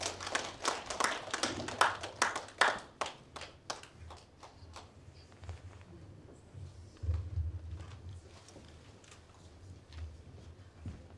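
Audience applause at an awards ceremony for a national Korean folk song (minyo) competition, a burst of hand clapping that is strongest early on and then thins out to scattered claps.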